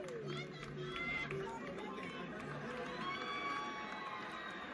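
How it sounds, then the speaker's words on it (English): A loud live-concert crowd at a show fills the air with dense chatter, shouts and cheering, a continuous wash of many voices at moderate distance. "I do think I'm going to have some audio issues because the crowd is so loud"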